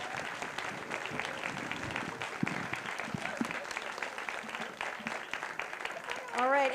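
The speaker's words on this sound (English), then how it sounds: "So round of applause for everybody." Audience at an awards ceremony clapping in a sustained, moderately loud round of applause, with a voice starting to speak as it trails off.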